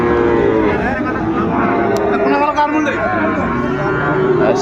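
A Sahiwal bull moos in a deep, sustained call close by, amid a noisy, crowded cattle market with voices.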